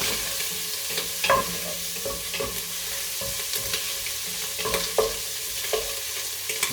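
Bolognese ingredients sizzle in a hot pan over a high flame, a steady close hiss of frying broken by occasional clanks and scrapes of stirring.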